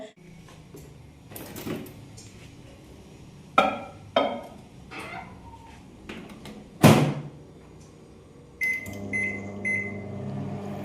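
A microwave oven hums as it melts ghee in a glass bowl, with several door clunks and handling knocks over the top, then a short series of electronic beeps near the end.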